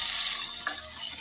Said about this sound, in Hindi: हमारा तेल थोड़ा गर्म हो गया है तो हम इसमें सबसे पहले प्याज डालेंगे